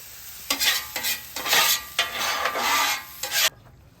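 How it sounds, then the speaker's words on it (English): Cream cheese being stirred into cauliflower rice in a pan, a series of scraping, swishing spoon strokes in bursts with a faint sizzle between them, close and clear, no talking. "We're just going to incorporate this cream cheese into the cauliflower rice"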